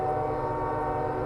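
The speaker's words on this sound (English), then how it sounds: "A train's going by. Let's wait for the train to go by." A passing train fills the scene with a steady, loud rumble and a sustained horn-like tonal drone, constant throughout with no voices, recorded outdoors beside the tracks.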